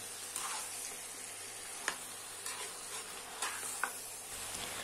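Mutton masala for a restaurant-style mutton curry is stirred in a pan, a quiet steady sizzle broken by several sharp scrapes and taps of the spoon against the metal.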